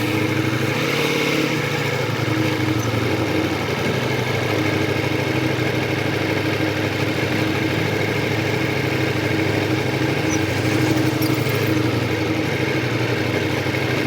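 A motorcycle engine idles continuously nearby, a low even rumble with no pauses or revving, and no voices over it.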